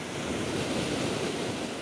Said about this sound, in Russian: Хотите на море? Вот оно.